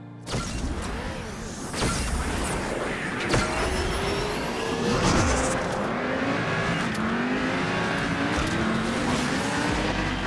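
A racing car in the Asphalt 8 racing game roars steadily for about ten seconds, its engine pitch rising and falling through gear changes, loud and continuous with no talk over it.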